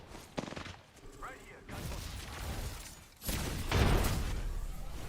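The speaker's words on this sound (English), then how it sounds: "Beautiful prowler shots coming in." Prowler submachine gun bursts in the Apex Legends video game during a competitive finals match, with dense rapid gunfire and loud booms filling the clip beneath excited esports commentary.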